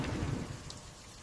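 Rain falls steadily with a low rumble of thunder rolling underneath, faint and distant, over a short stretch with no voices.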